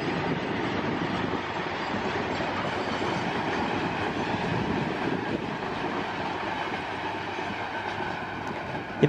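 An Indian double-decker freight train rolls past in a steady, loud wash of rumble and rattling wagons, with faint clickety-clack from the wheels and no voices.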